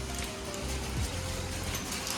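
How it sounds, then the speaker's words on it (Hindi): Large hailstones falling with no rain in a Pahadi hill setting, a dense continuous pattering and clatter on surfaces at close range, steady throughout with no voices. "ये देखो बारिश नहीं हो रही, खाली ओले ओले गिर रहे हैं बस।"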